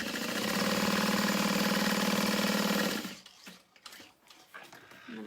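A sewing machine stitches the top seam of a fabric beauty bag in a steady, close mechanical whir for about three seconds, then stops, leaving only faint handling sounds.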